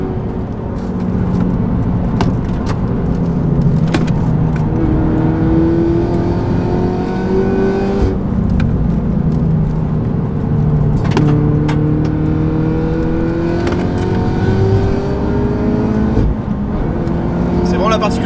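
Peugeot 308 ByFactory race car lapping the Nürburgring, engine droning loud and steady from the cabin with repeated rising gear pulls and shifts, under continuous talk.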